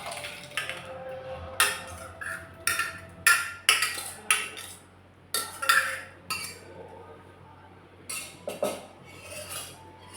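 A spoon clinks and scrapes against a pan as boiled sago is stirred into pineapple fried in ghee, with intermittent metallic taps in irregular bursts and quiet gaps between them.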